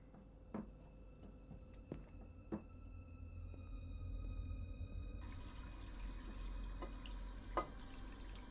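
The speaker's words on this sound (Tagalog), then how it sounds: "gripo-gripo lang yan" A faucet in the video game Fears to Fathom: Woodbury Getaway runs with a steady low rush of water, quiet and continuous, with a few faint clinks and taps over it.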